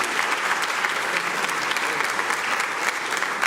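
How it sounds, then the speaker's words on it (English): A concert audience applauds the saxophone players, steady dense clapping from a large crowd, loud and continuous throughout with no talking over it. "can we have another round of applause for the saxophones from Encore?"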